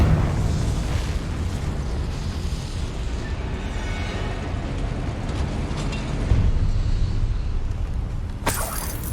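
Confringo blasting spell in Hogwarts Legacy: a continuous, rumbling explosive roar over game ambience, then a sharp crackling burst near the end.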